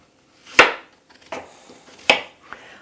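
Apples being chopped into small pieces on a cutting board for hand pies: three or four sharp, close knife thuds spaced unevenly, with faint softer taps between them and no talking.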